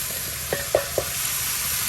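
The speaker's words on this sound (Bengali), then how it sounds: "এই আলু কুচিগুলা দিয়ে দেওয়া হইতেছে চুলায়" Finely chopped potatoes frying on a stove give a steady close sizzle, with three quick utensil knocks or scrapes against the pan in the middle.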